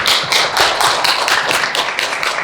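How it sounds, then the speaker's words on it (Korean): A room full of people at a talk by a North Korean defector in Korea applauds together, a dense, loud, steady clapping that fills the whole stretch without pause. "그 김태산 대표님께 다시 한번 큰 박수 부탁드리겠습니다."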